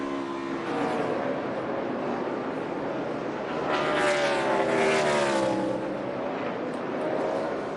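A NASCAR Cup Series race car at the Toyota/Save Mart 350 lifts off the throttle to save fuel, its engine a loud, steady drone that swells and fades as it coasts, heard close with no talk.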